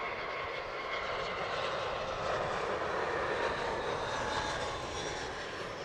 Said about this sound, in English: keep watching the Korean Air Triple as the Milan British Airways goes by